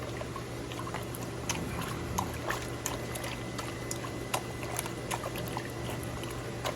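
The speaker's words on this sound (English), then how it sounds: "all I do with that is just squeeze it in some aquarium water" Aquarium pre-filter foam squeezed in a container of aquarium water gives irregular trickles, drips and small splashes over a low steady hum, close and fairly quiet.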